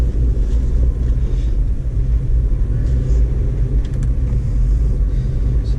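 A 2012 Audi A4 Quattro drives along a snowy road during a blizzard, producing a loud, steady low rumble of engine and tyres with some wind buffeting against the cabin, heard from inside the car with no talking.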